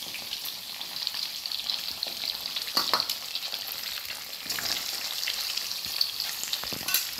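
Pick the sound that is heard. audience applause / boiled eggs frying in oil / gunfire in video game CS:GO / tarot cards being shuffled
boiled eggs frying in oil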